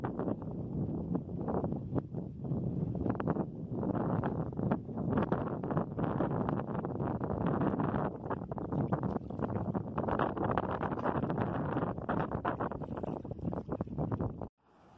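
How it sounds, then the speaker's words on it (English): Steady, heavy wind buffeting the microphone for the whole stretch while kayaking in Florida mangrove canals, a dense roaring rush with gusty swells and no voices. "we picked a very, very windy day to go kayaking."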